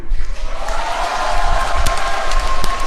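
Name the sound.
audience applauding at a New Year citizens' meeting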